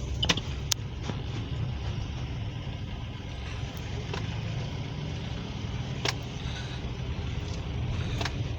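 A manual-transmission car driving in second gear with the accelerator pressed, its engine giving a steady, continuous hum and road rumble throughout, with a few faint clicks.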